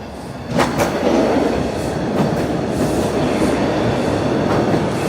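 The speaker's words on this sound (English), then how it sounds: "Here comes a southbound train rolling in." A southbound Toronto subway train rolls into Rosedale station with a loud, close rumble and a rhythmic wheel clatter that swells after a quieter start and stays heavy to the end.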